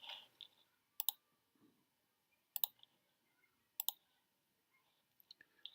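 Sharp, close computer mouse clicks come in three distinct pairs spaced about a second and a half apart, followed by a few lighter clicks, in a near-silent room while working in Google SketchUp.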